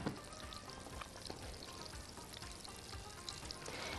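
Butter and oil heating together in a pan, a faint continuous sizzle with scattered tiny pops and crackles, close and steady throughout with no talk.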